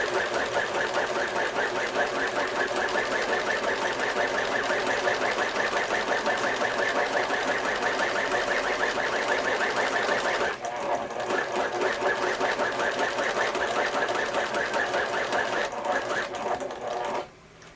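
A sewing machine stitching a homemade fabric face mask runs continuously up close with a steady rapid mechanical whir, pausing briefly midway before resuming and then stopping.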